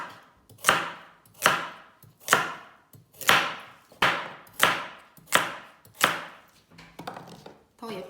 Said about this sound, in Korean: 그 다음에 당근을 썰어 볼게요